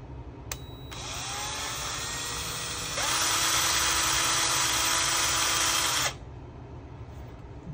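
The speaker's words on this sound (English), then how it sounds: "Drilled it out just a bit." A small power drill enlarges a hole in the handle of a Feiyu Pocket 3 camera gimbal, whining steadily and close for about five seconds, then stepping up in pitch and loudness partway through before stopping abruptly.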